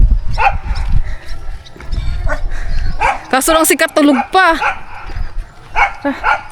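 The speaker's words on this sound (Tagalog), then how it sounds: "Dami ko lang aso dito." Several dogs bark, yip and whine close by in a busy household, with an excited burst of overlapping yelps in the middle, while a person talks over them.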